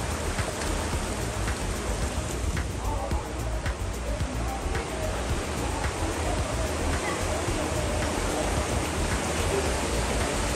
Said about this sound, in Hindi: देखिए झरना कैसे बहता हुआ यह पानी का प्राकृतिक स्रोत है